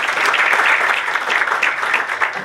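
Warm, steady applause from an audience at a Brazilian political gathering on Guanabara Bay, honouring a newly sworn-in port authority president, dense clapping filling a short burst of under three seconds.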